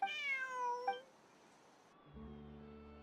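A cat in the video game Genshin Impact gives two clear, close meows in quick succession, followed by a soft sustained musical tone.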